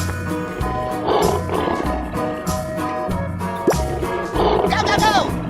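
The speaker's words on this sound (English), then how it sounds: "Lion." Lion roaring as a sound effect in an escape room challenge game, a few rumbling roars mixed with a rising whoosh and busy game sounds, with voices talking briefly.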